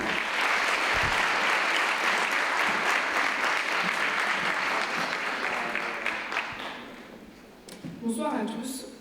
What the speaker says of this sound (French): Je vous prie d'applaudir s'il vous plaît, Marie.